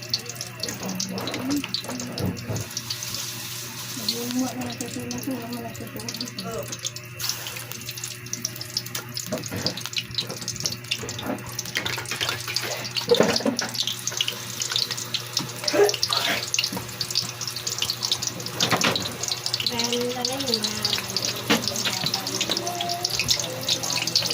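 A kitchen tap runs steadily into a sink during dishwashing while cooking tortang talong, with water splashing and clattering over the stream and faint intermittent voices in the background.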